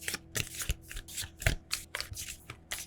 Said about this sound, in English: Shuffling, shuffling, shuffling, shuffling.